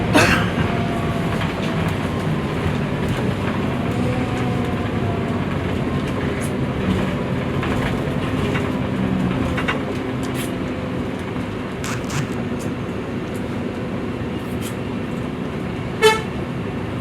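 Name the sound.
TransJakarta bus driving along the route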